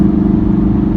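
A Volkswagen MK7.5 Golf R engine roars loud and close with a deep, sustained low rumble during a launch, brief and steady.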